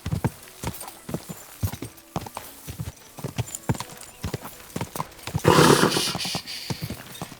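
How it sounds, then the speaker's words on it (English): Horse hooves clip-clopping in the video game Kingdom Come Deliverance 2, a brisk steady rhythm of hoofbeats close by, with a brief louder burst near the end. "Easy, good horse."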